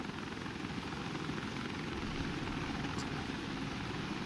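Helicopter flying in the video game Wardogs, a steady broadband rotor and engine roar held at an even level throughout, with no talk over it.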